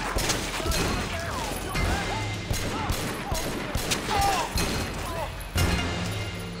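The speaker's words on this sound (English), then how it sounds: "Are they shooting? And they're shooting." Rapid volleys of gunfire in the Triad Wars game, with dense overlapping shots and sharp cracks over a steady rumbling backdrop, close and loud, with little talk.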